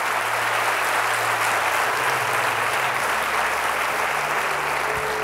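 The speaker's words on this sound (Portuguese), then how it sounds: "Aplauda mais forte aquele que vive e reina." Steady, dense applause from a church congregation during an evening service, loud and continuous throughout with a faint low hum beneath.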